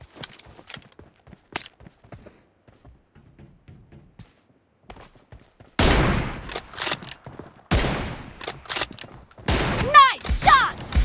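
Gunfire from the mobile battle-royale game PUBG Mobile, with sharp shots and bursts loud in the second half after quieter clicks and steps, while voices speak over the action.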